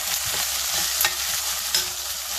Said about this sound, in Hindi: अब इन प्याज को भी हम हल्का सा भून लेंगे।